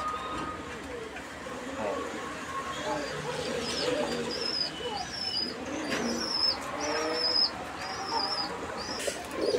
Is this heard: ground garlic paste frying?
no